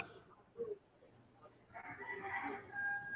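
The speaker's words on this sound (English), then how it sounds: "Rooster in the background." A rooster crows in the background of a morning podcast: a quiet stretch first, then a drawn-out, harmonic cock-a-doodle-doo rising fairly clearly over the last half. No one speaks.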